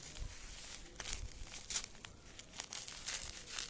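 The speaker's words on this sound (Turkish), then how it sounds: "Şöyle baloncuklu poşetten kurtulmaya çalışıyorum dostlar." Crinkly plastic rustling and tearing in repeated bursts as a stapled bubble wrap bag is torn open, close up, with no voices.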